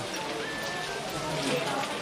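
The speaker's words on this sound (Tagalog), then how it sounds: "tignan natin kung tumila yung ulan. Kasi masyadong malakas guys" Steady broadband hiss of heavy rain pouring down, continuous and fairly loud throughout, with a faint murmur of activity underneath.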